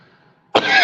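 A single sharp, close cough bursts out after a brief quiet moment.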